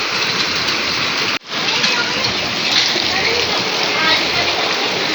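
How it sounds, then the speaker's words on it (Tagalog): Steady rain pours outside on a wet morning, a dense continuous hiss of falling drops and splashing water with a brief dropout near the start, fairly loud and close throughout with no talk. "Pakita ko yung ulan."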